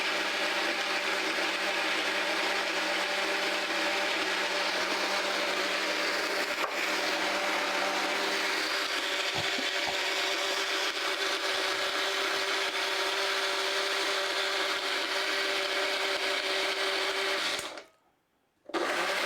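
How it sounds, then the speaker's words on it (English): Personal blender blending dates with water and lemon juice: a loud, steady motor whine with a grinding, whirring texture running nonstop for about seventeen seconds close up, then abruptly cutting off into near silence. "So we're just going to give that a blend."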